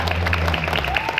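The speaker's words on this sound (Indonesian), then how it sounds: "tepuk tangan" Applause at a Pramuka scout extracurricular session at an elementary school, with steady clapping throughout and a low hum underneath.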